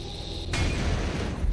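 A van exploding after a gas can is shot in Total Overdose, a sudden loud burst at about half a second that stays as a sustained rumbling roar to the end.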